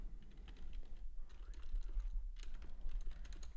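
Typing on a computer keyboard during a stock-trading session: quiet, fairly steady clicking of keys with a couple of brief pauses, faint and alone with no talk.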